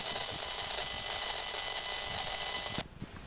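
An Esmog Spion EMF meter emits a steady high electronic tone with its sound function on, sustained and fairly loud before cutting off abruptly near the end.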